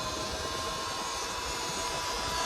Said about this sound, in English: I'm full throttle right now in eco mode.